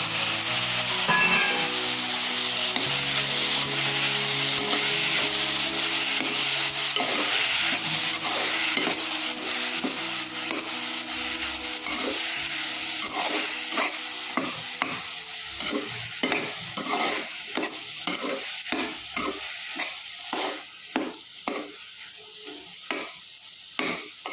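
Tomatoes fry in oil for a pea curry: a continuous sizzle at first, then increasingly distinct, rhythmic scraping strokes of a spoon stirring the pan, close and fairly loud.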